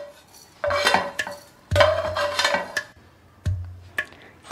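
Metal utensils clatter and scrape against a hot pan as Goda masala spices are stirred and roasted, bursts of clinking and scraping in short rhythmic passes with pauses, fairly close and moderately loud.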